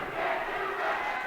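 A basketball crowd and team bench at a boys' high school playoff game roar and yell together, a loud sustained mass of shouting voices filling the whole moment.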